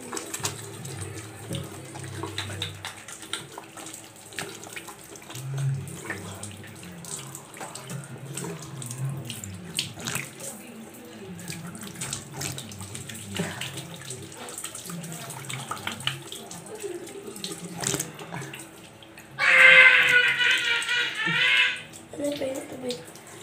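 Tap water gushes into a sink near the end during face washing, a short, close burst that follows stretches of quiet talking.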